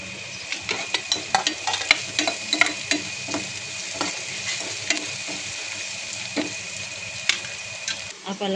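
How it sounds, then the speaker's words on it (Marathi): Onions and green chillies fry in a pan, a continuous sizzling hiss punctuated by many quick scraping and tapping stirs in the first half, then calmer frying with a few louder clacks near the end. "अशा प्रकारे आपला कांदा फ्राय झालाय"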